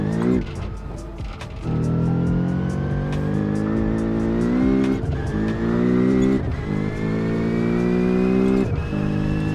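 A race car lapping the Nordschleife in the BeamNG.drive driving game, its engine loud and close, revving up through rising gears with brief dips at the shifts and a harsh, buzzy tone throughout.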